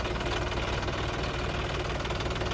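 Steady, loud mechanical drone of a tractor engine running a fertilizer spreader in a field, an even knocking rumble that holds constant throughout with no pauses.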